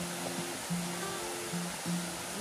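Rain-swollen river water rushes past as a steady broadband roar, with faint tonal voice-like sounds drifting over it.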